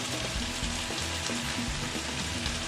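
Spinach wilting in a hot pan on a cooking show, a steady dense sizzle and crackle of frying greens throughout, close and even in level, with no talk over it.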